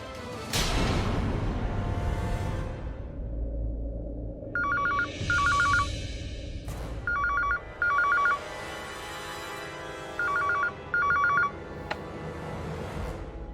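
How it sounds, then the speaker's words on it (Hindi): A telephone rings in three paired bursts of bright electronic trills, moderately loud and close, over a steady background music bed with no talking, in a Hindi TV drama scene. "बेटा फोन बजेगा तो उठाना तो पड़ेगा ना।"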